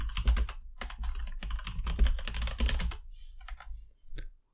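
Typing on a computer keyboard to rename files, a close, brisk run of clicking keystrokes in quick bursts that thins into a few scattered taps before stopping.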